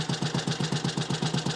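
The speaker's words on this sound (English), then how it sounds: "but that's a cold engine. It ticks over pretty well, really." A cold Matchless G11 classic motorcycle engine ticks over at idle in a workshop, a steady, even thumping pulse of about seven beats per second, close and continuous with no talking.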